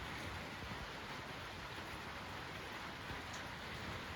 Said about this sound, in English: The sound of the rain is so relaxing.